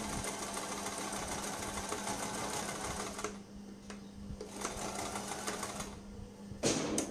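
A sewing machine stitches a baby frock seam with a half-inch allowance: a steady, dense mechanical whir runs close and loud, easing off briefly near the middle before picking up again, with no talking.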